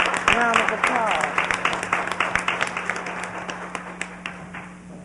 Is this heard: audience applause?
yes